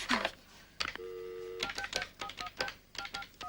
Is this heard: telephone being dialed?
yes